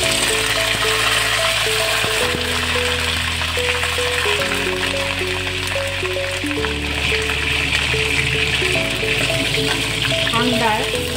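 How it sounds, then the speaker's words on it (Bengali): Cauliflower florets frying in oil in a pan for aloo phulkopi khichuri, a steady close sizzle and crackle running throughout beneath loud background music. "কপিটা ভেজে নেব আগে।"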